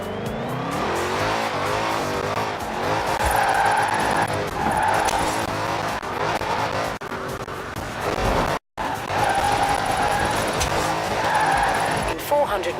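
A car drifting in Forza Horizon 4, its engine revving hard while the tires squeal through long slides, loud and continuous for the whole stretch, with in-game voice lines speaking over it.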